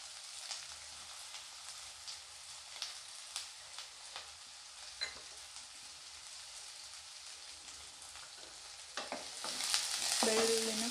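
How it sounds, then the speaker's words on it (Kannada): Onion and then garlic frying in a pan while cooking a bitter gourd dry fry, a soft steady sizzle with scattered stirring clicks and taps, growing louder toward the end. "ಈರುಳ್ಳಿ ಫ್ರೈ ಆಗಲಿ, ಇದಕ್ಕೆ ಬೆಳ್ಳುಳ್ಳಿ ಆ್ಯಡ್ ಮಾಡ್ಕೊಳ್ಳೋಣ"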